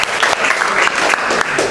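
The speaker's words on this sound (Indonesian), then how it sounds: "Tepuk tangan dulu buat kalian." Classroom of students clapping together, a dense burst of loud applause lasting under two seconds with a few stronger claps standing out.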